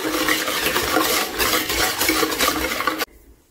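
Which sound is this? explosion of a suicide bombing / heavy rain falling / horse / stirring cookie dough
stirring cookie dough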